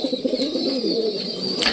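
A pigeon cooing close by, a short run of soft throaty coos over a faint background hum.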